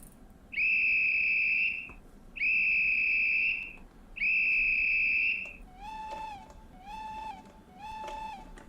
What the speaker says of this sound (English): I will give 3 blasts of the whistle